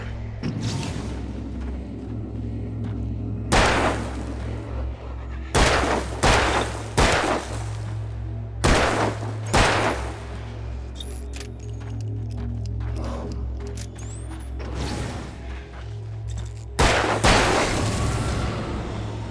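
Several sharp, loud gunshots from the Alan Wake video game crack out in separated bursts over a steady low droning hum, with quieter clattering between them.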